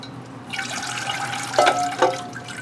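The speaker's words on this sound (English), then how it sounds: "So we'll get this one watered." Water pours onto a potted Miltonia orchid, a soft close trickle and splash with a couple of brief louder gurgles, with no talk.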